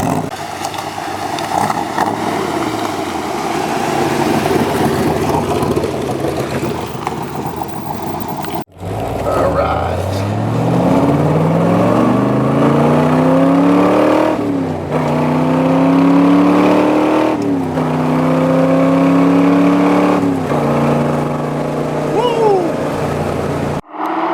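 A 1967 Corvette's engine runs loud and close while driving, rising in pitch through several revving gear pulls separated by brief shifts, with talking heard over the engine.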